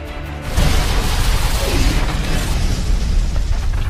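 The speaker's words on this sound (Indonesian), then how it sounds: "Alhasil para polisi ini terkena jebakan dari si Asep-47. Duar cik aing ge kan" A trap explodes around police officers in the 2007 Hitman film, giving a sudden loud boom that swells into a sustained roaring, crashing rumble of debris and fire.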